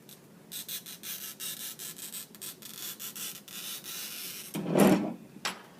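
A glass cutter scores a sheet of glass with a scratchy, rasping drag made of repeated short strokes, fairly close and moderate in volume, and a louder scrape or knock comes near the end.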